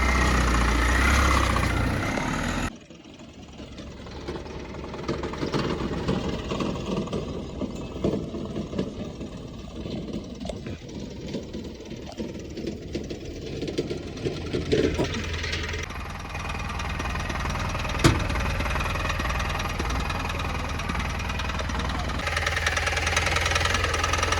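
A homemade jeep's engine runs while driving, giving a loud, steady knocking chug with a rough, rattling rhythm that rises and dips as the vehicle moves along.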